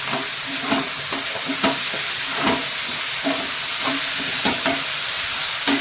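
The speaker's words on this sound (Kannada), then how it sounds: "ಕಟ್ ಮಾಡಿಟ್ಟಿರೋಂಥ ಟೊಮೆಟೊನ ಕೂಡ ಇದಕ್ಕೆ ಹಾಕಿ ಫ್ರೈ ಮಾಡ್ಕೋತೇನೆ." Chopped tomatoes fry in a pan for chana masala, a steady broadband sizzle and hiss filling the whole stretch, with soft recurring scrapes of a spoon stirring through it at a loose, even rhythm.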